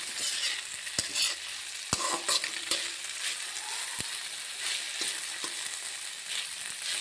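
Sliced okra fries in hot oil with a steady, close sizzle, broken by sharp clicks and scrapes of a spoon stirring the pan.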